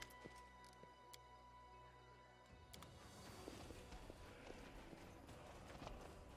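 Horse hooves clip-clop in the Pathfinder: Wrath of the Righteous video game, a steady walking rhythm of distinct hoof strikes over a soft ambient game background, quiet and moderately close.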